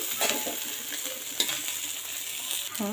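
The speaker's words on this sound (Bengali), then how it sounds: "এখানে আমি কড়াইতে খুদগুলো দিয়ে দিলাম" Broken rice goes into a wok and gives a light dry sizzle with scattered scraping and clinking from stirring, close and fairly quiet.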